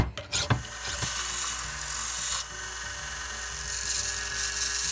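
A hand file rasps steadily across the rusty, pitted face of an old hammer, a close, continuous scraping that runs almost unbroken after a few brief knocks at the start.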